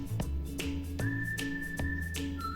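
A pressure cooker steaming mutton gives a series of sharp, rhythmic whistling hisses, roughly five close, loud pulses in quick succession, heard alone without talk.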